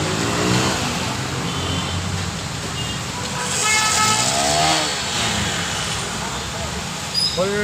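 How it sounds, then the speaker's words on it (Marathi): Traffic stuck at a road signal after heavy rain on a waterlogged street, with constant close engine rumble, passing vehicles and several horn blasts, while someone talks over the noise. "फुल ट्रॉफिक जाम झाले सिग्नलला"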